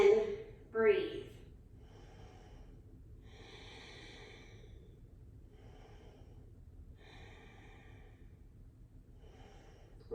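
Slow breaths during a yoga camel pose, a sharp inhale and exhale at the start followed by soft, quiet breathing that fades into near silence.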